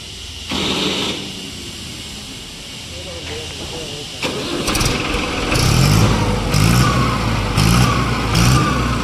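An Arjun 605 DI tractor engine starts up with a hiss and a rumble, then settles into a heavy idle that chugs in a steady rhythm, with people talking nearby.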